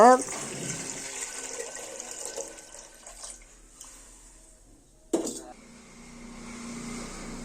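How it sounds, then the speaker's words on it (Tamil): Water poured into a cooking pot in a home kitchen, a soft splashing fill that tapers off, followed by a brief clank of the pot and a quiet running-water hiss. "இப்போ ஒரு பாத்திரத்தை எடுத்துக்கோங்க இப்போ தேவையான அளவு தண்ணி ஊற்றுக்கோங்க"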